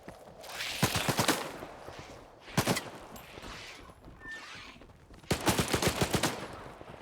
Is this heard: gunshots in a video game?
yes